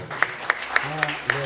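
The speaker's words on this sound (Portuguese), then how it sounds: "Você pode aplaudir o Senhor?" Church congregation at a prophetic evening service clapping in praise of the Lord: five evenly spaced, sharp claps in a steady rhythm over a sustained voice.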